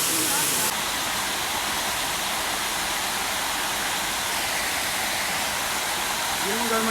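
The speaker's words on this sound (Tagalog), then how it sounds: "dito tayo sa pangatlong falls sa Tarawis" Tarawis waterfall in Rodriguez, Rizal, a loud, steady broadband roar of falling water filling the whole stretch, close by, with faint voices underneath at the start and end.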